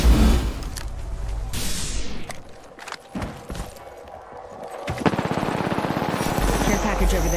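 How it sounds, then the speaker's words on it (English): Gunfire in the battle royale game Apex Legends, bursts of rapid shots and single cracks through the middle and a steady automatic stream near the end, loud and close, with game voice callouts. "I'm taking shots."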